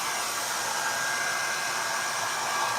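A hair dryer blows on high, a loud steady rushing hiss with no pauses throughout, close to the listener.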